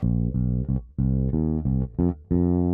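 An electric bass carries on a simple riff, a string of close, loud, clean notes of varying length with short gaps between them, played alone.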